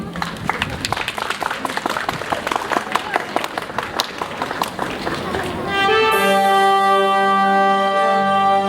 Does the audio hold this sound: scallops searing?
no